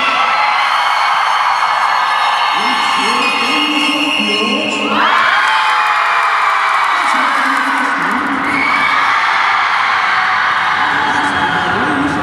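High school seniors at a spirit-week assembly cheer, shout and whoop together as a loud, sustained crowd roar that surges in waves over about twelve seconds.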